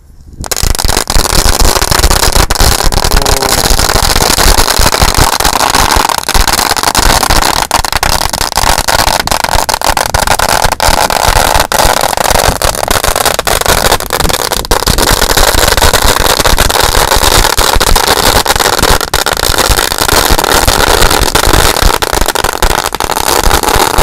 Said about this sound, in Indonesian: Sudah menyala ini mercon sumbu di gunung pasir.